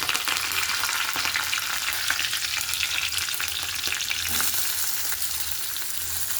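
Cumin seeds and curry leaves crackle and sizzle loudly in hot oil in a kadai for a chaat dish, a dense continuous frying hiss with occasional stirring clicks and no talk.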